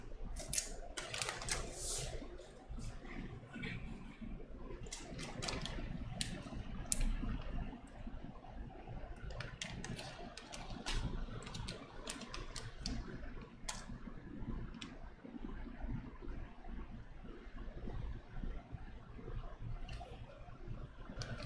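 Dense, rapid clicking and clacking of keystrokes on a Canoe mechanical keyboard fitted with Zealio 67g switches, typed continuously and fairly loudly at close range for the whole stretch, with no talking.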